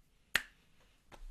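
Two finger snaps ring out crisp and close in a quiet classroom, a sharp first click followed by a softer second one about three-quarters of a second later.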